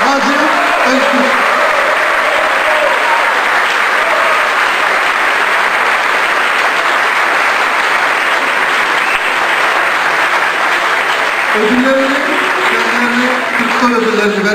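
Sustained, dense applause fills the hall for the Ankara State Opera and Ballet conductor at the TÜRKSOY Opera Days final scene; a voice speaks briefly over the clapping at the start and again near the end.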